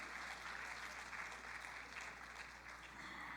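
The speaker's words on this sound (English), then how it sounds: "Can I have a big round of applause for our closing plenary session?" Faint, even applause from the audience at the closing plenary of the ASEAN for the People's Conference 2025, a steady crowd clapping heard from a distance over a low constant hum in the hall.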